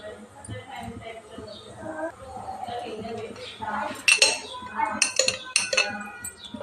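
A cooking pot is set onto a lit stove for bagara rice, giving a few close metallic clinks and knocks near the end over a soft burner hiss and faint background voices.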